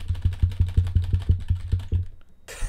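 Keys on a computer keyboard are struck in a quick, regular run of about a dozen close, punchy taps, then a short pause and a brief burst of hiss at the end.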